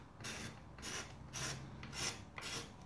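A blade rubs back and forth over a stick of dry pastel, giving five short rasping scrapes in an even rhythm, close and faint, while making colour dust for a polymer clay miniature.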